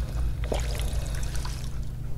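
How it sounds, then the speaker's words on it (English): Water pours and trickles into a bottle in Fallout 4, a short, close gurgling fill over a steady low hum. "I'll try and fill one bottle, see how it goes"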